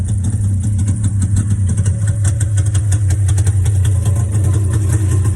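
A cold quad or snowmobile engine idles low and steady nearby, a continuous throbbing rumble with a slight regular pulse and no revving, heard alone.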